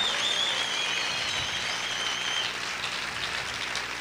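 Church congregation applauding during a sermon, a dense, steady wash of clapping heard at a distance, continuous and even throughout with no distinct individual claps standing out.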